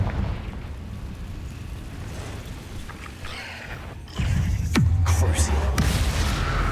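A Confringo blasting spell goes off inside a cave in the Hogwarts Legacy video game. Over quiet rumbling ambience, a sudden explosive burst erupts with a brief descending whistle, then gives way to a sustained loud, booming roar.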